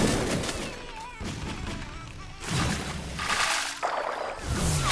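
Obsidian Rifle shots in the Roblox game Blox Fruits, several heavy blasts spaced across the stretch amid game effects, with a person talking over them.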